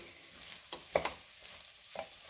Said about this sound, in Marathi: आता तांदूळ आणि डाळ सुद्धा आपण ह्या भाज्यांसोबत 2 मिनिटं चांगलं परतून घ्यायचं।